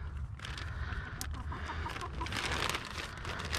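A backyard homestead chicken flock with a rooster, soft clucking and murmuring close by over a busy outdoor background, fairly faint and continuous.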